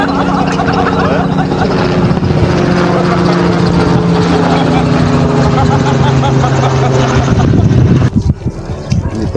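A helicopter passes over a pineapple field, its loud, steady rotor drone and engine hum dominating throughout and easing off near the end, with a voice heard faintly under it.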